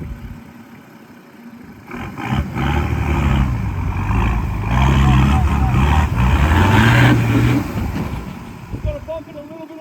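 Nissan Patrol GU 4WD climbing an off-road track in the Pyrenees, its engine rumbling and revving steadily louder as it pulls uphill, with people talking over it throughout.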